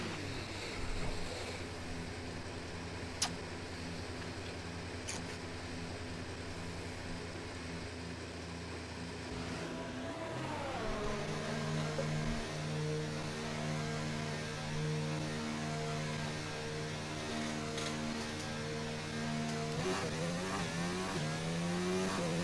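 F1 car engine driving out in the F1 2019 video game, a steady low idle hum that rises into a climbing, revving engine whine as the car pulls away, then stays at a constant drone, fairly quiet overall.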